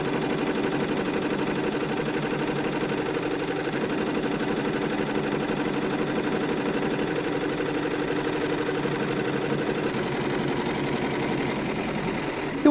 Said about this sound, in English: The machine will now sew the tack down stitch and finish our applique.